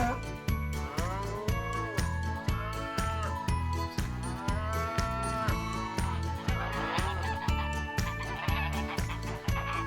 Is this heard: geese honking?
yes